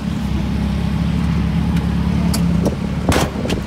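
New Can-Am Maverick X3 side-by-side idles and creeps onto a trailer, its engine a close, steady low drone with a brief rev and a few sharp clunks near the end.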